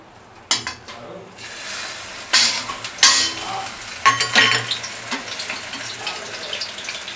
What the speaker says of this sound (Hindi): ये देखिए भिंडी इसमें फ्राई हो रही है